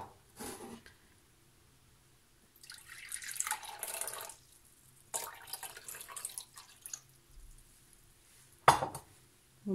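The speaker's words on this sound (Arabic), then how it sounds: "باش نزيدو شويه ماء اخر." Water added bit by bit to semolina dough for Tunisian makroudh, with intermittent trickles, splashes and drips in short bursts separated by quiet gaps, plus a sharp clink near the end.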